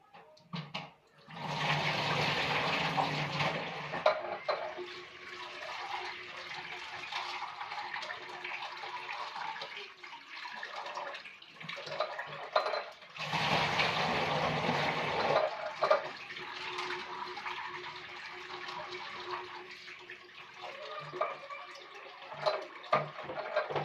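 Chana dal being washed in a home kitchen, running water splashing and pouring in bursts with quieter handling between, some sloshing of the lentils, fairly close and moderately loud.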